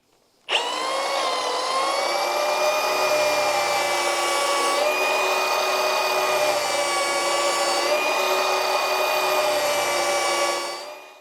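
Power polisher running steadily on a wood blank, a sustained whining motor tone with layered harmonics that starts abruptly and holds close and loud for about ten seconds before cutting off, with no talking.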